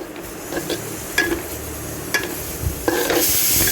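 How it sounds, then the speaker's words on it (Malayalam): Chopped tomato stirred and cooked in a pan for a country-style chicken curry, with a steady sizzle under a few sharp utensil scrapes and clinks against the pan, close and fairly loud, no talking. "ടൊമാറ്റോ ഇട്ട് നന്നായിട്ട് നമ്മൾ മിക്സ് ചെയ്തുകൊണ്ടിരിക്കുകയാണ്."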